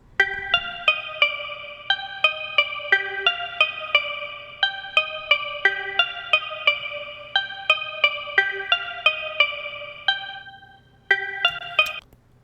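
Short plucked synth notes from a Razor synthesizer stem for a hip hop beat, playing a steady melodic pattern with evolving filter automation, alone and fairly loud, ending with a brief gap and a few final notes.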